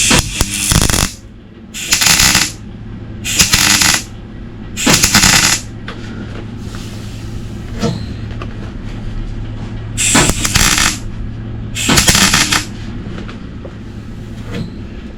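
Welder working on the rotten inner wing of a Mk2 Ford Fiesta, with several loud bursts of crackling arc a second or so apart, separated by a low steady hum, all close by.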